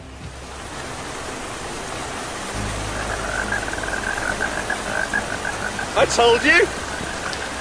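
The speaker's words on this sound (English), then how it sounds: "It's raining!" Steady broadband hiss of falling rain, with a voice calling out briefly over it near the end.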